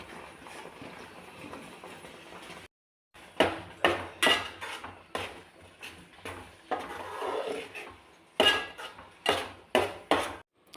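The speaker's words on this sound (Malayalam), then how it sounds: "തേങ്ങയും കൂടെ ചേർത്ത് നല്ലതുപോലെ ഇളക്കിയെടുക്കാം." A spoon stirring a coconut mixture in a pan, with rhythmic scraping and clanking strokes that come in repeated bursts after a brief pause, fairly close and loud, with no talking.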